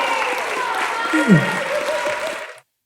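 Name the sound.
audience applause at a talent show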